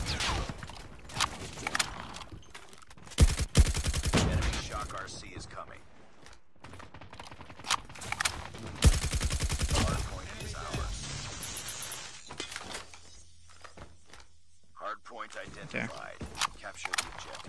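Rapid KN44 rifle bursts in a ranked first-person shooter match, loud clusters of shots with gaps between, under excited talk from players.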